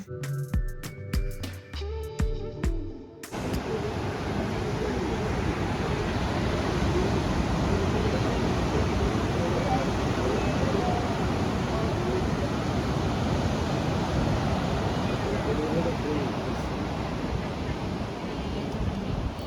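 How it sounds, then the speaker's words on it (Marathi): Steady broadband rush of flowing water at a temple, loud and continuous for most of the span, preceded by a brief burst of musical or rhythmic sound at the start. "हा जो काही पाण्याचा आवाज आहे"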